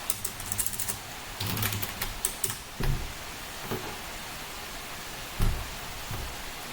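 A command typed on a computer keyboard, scattered key clicks and a few heavier keystrokes, close and clear over faint background hiss, with no talking.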